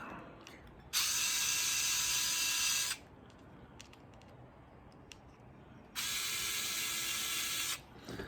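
A screwdriver backs screws out to free the strain relief on an Uhlmann plug head, heard as two bursts of fast, close ratcheting clicks about two seconds each, separated by a quiet pause with small handling taps.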